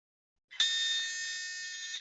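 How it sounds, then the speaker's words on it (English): A single sustained electronic buzzer from a Taboo word game, a harsh tone starting abruptly and holding steady for about a second and a half, heard alone and clear. "Did you just have Rob's taboo buzzer this whole time and you kept that from us, or is that a sound effect?"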